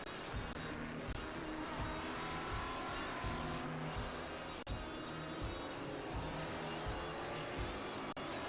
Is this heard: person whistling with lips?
no